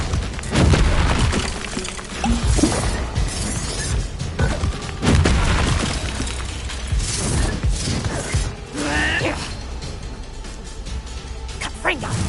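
Explosive spells such as Confringo in the Hogwarts Legacy video game on PS5 burst repeatedly in a chaotic stream of booms, crackles and clanking impacts amid combat, with voices talking over them.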